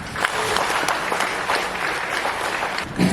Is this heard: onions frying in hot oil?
no